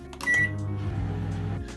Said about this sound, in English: put this in the microwave to melt